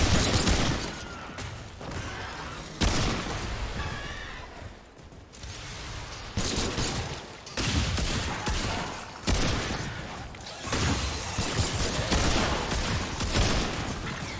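Gunfire from pistols in the co-op shooter Remnant 2 crackles through a busy battle mix, with loud overlapping shots and bursts continuing throughout amid other game effects.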